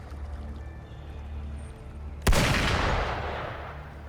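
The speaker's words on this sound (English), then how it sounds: "Gunfire! We've got intruders." A single sharp gunshot from the video game Wuthering Waves cracks out loudly partway through, its roar decaying slowly over a low, steady ambient hum.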